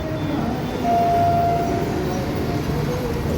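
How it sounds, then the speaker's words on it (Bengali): A steady low rumble of a passing train with a faint whistle-like tone partway through, heard amid general street noise. "ট্রেন যাচ্ছে"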